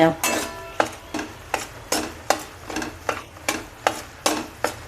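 Flour roasting in ghee for sukhadi, stirred in a pan: a steady run of regular scraping strokes about twice a second, close and clear over a faint background sizzle, with no talking.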